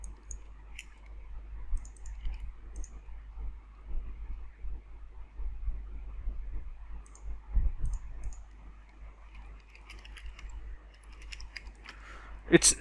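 A computer mouse clicks while connecting to a remote server, giving soft, scattered clicks and light keyboard taps in a quiet room, with a few sharper clicks near the end.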